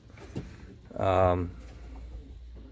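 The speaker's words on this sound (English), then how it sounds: "he was just cooing, so hopefully they'll be laying eggs" A pigeon coos once in a loft, a short, fairly loud throaty call, with brief bits of human voice before and after it.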